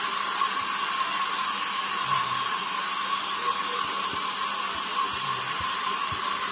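A hair dryer blows steadily and close up, drying paint on a decoupage piece, a continuous even whoosh with no talk over it.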